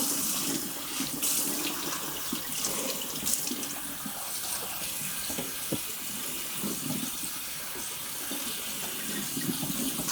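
Tap water runs steadily into a sink as salted basmati rice is rinsed and drained, a continuous close splashing rush with no voices.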